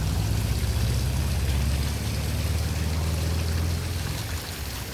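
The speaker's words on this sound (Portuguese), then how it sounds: "caninha aqui jorrando uma aguinha pra eles" A small pipe spouts a steady stream of water into a pond full of alligators, a continuous close splashing trickle that runs evenly throughout and eases slightly at the end.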